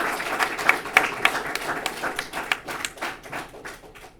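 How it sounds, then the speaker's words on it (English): At a congressional briefing, a modest audience claps for the panelists in scattered, irregular hand claps that fade and thin out toward the end. "give our panelists a round of applause"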